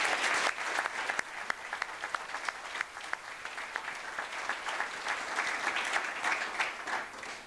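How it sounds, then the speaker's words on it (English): Audience applause at a university last-lecture event, a sustained round of clapping from a moderate room crowd with individual sharp claps standing out, even and unbroken for several seconds. "So I would like to give them a round of applause."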